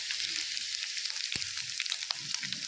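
Patrode pieces deep-frying in a pan of oil give a steady, close sizzle with a faint scrape or two, and no voices are heard.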